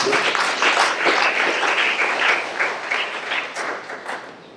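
An audience at a church gathering breaks into sustained applause, dense, close clapping that gradually eases off over a few seconds.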